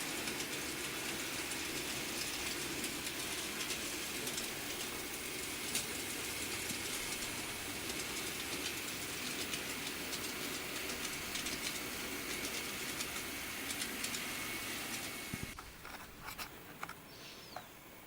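Model trains running on a hobby layout built so two trains can pass each other, giving a steady mechanical whir and rolling rattle for about fifteen seconds before it abruptly drops away, with no talking.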